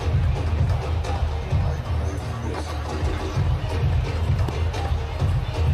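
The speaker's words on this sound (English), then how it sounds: "Crowd are enjoying it." A crowd at a Nepal vs India cricket match cheers and murmurs in a steady, broad roar, with swelling surges, moderately loud and distant.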